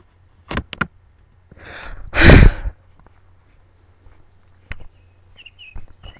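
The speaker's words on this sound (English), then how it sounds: "My shoes are wet from walking in wet grass." A few soft, scattered footsteps squish through wet grass in a backyard, with a breathy sigh in between and long quiet gaps.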